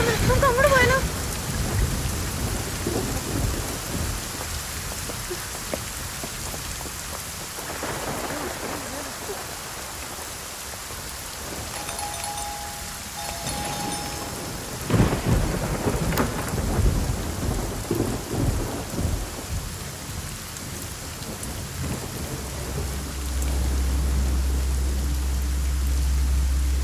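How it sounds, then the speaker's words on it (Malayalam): Heavy rain pours steadily in a forest while thunder rumbles low and long, with a few louder cracks partway through and a deep roll building near the end. "മഴ കാരണം ഒന്ന് കയറി നിൽക്കാൻ വന്ന"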